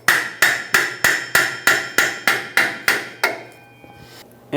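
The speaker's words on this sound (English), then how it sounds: "You may need a hammer to tap it in." A hammer taps a rear shock absorber into its mount on a Ford E-350 van, ten sharp evenly spaced metallic strikes with ringing decay, then a pause and one last hit, with no talk.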